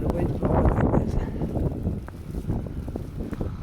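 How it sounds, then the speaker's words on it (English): Strong nor'easter wind during a snowstorm in Halifax roars and buffets the microphone in gusts, loud and close throughout, with a person speaking faintly underneath. "And the wind's blowing like this."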